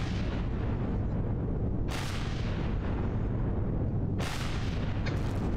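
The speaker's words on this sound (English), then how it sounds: "Let's start shooting." Weapons fire at a Zirax turret base in the Empyrion game as a dense, loud, continuous barrage, with sharper bursts cutting in around two and four seconds.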